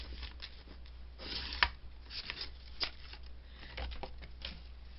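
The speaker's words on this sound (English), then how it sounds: "So I'm going to cut it as close as I can to that fold." Scissors cut paper close to a fold, giving soft irregular snips and rustles of paper at close range, fairly quiet against a low background hum.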